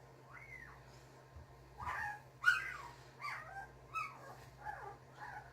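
A newborn puppy, eyes still closed, whining in thin high-pitched whimpers, about six or seven short rising and falling cries spaced through the stretch, faint and close over a quiet low hum.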